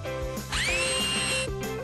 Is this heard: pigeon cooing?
no